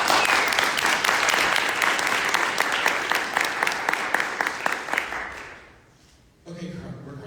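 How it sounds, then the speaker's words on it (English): Audience applause for panelists at an LGBTQ activism panel, brisk dense clapping for about five seconds that fades out, followed by a voice starting to talk. "So please give them a round of applause."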